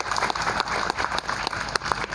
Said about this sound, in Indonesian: Tepuk tangan bagi.